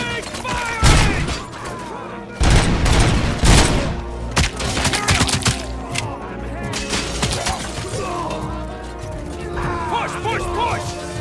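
Sustained gunfire from a squad fighting a robot in RoboCop: Rogue City, with dense bursts and volleys and loud peaks near the start, running steadily under shouted voices throughout.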